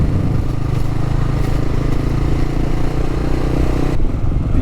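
A Kawasaki KLR650 motorcycle engine runs steadily and loudly on a desert crossing, a continuous mid-pitched drone with clattering texture that shifts slightly near the end.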